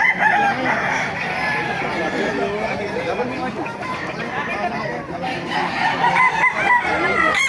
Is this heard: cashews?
no